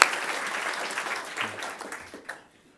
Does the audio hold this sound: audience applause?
yes